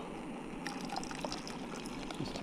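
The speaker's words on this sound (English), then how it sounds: "The remainder of the boiling water." Boiling water pours and trickles into a container close by, a soft liquid stream starting partway through, quiet overall, outdoors in the Australian bush.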